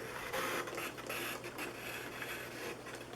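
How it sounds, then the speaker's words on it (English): A Brother ScanNCut cutting machine slicing paper shapes gives off a continuous mechanical whir and buzz, steady and close, with faint rhythmic pulses of the moving carriage. "It's going to cut all these things out. And it is cutting away."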